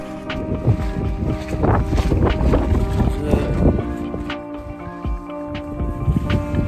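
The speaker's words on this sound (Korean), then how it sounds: "여기 바람 너무 많이 부는데요" Strong wind sweeps across the Uyuni salt flat in Bolivia and buffets the microphone in a steady, heavy roar that rumbles and gusts without a break.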